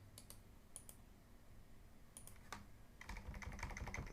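An email address is typed on a computer keyboard as quiet, close key clicks, first in scattered single taps and then in a faster, denser burst near the end.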